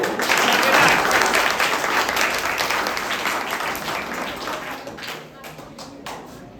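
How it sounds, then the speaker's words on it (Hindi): Loud, sustained applause from a school crowd at an Independence Day program, dense clapping that gradually thins and fades toward the end. "एक जोरदार धमाकेदार तालियां होगी"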